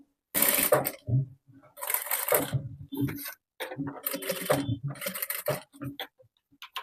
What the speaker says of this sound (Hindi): तो अब यहाँ पे 1/2 इंच की दूरी से सिलाई लगाना है आपको।